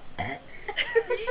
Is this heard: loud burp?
yes